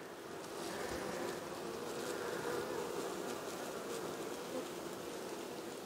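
A honey bee colony buzzes as its queen is caged. The drone is dense, steady and close, holding at an even loudness throughout with no speech.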